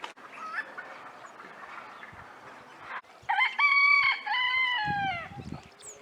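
Nearby rooster in a perched hilltop town, with a faint first crow followed by a louder, drawn-out crow that clearly stands out over quiet ambient background, with no speech.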